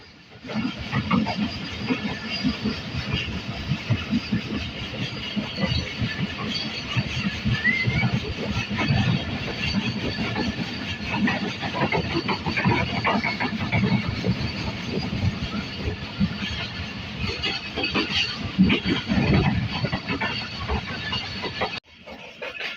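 A moving passenger train on the Karachi to Rohri line runs through Nawabshah station without stopping, its steady rumble and clatter continuing throughout and cutting off abruptly near the end.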